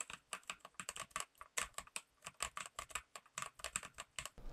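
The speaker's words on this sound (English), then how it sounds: "all you hear when typing and playing games is that satisfying sound of the MLX Red switches" Typing on a Corsair K70 Core keyboard with MLX Red switches and double-shot PBT keycaps: a steady, fast patter of soft, close keystrokes with no talking.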